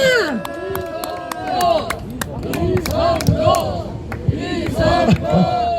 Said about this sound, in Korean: 큰 박수와 환호 부탁드립니다